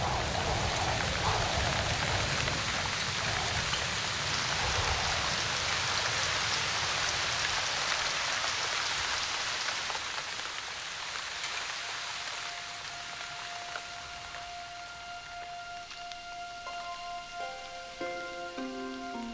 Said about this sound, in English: The long drought of February to May ended with violent cleansing storms drenching everything.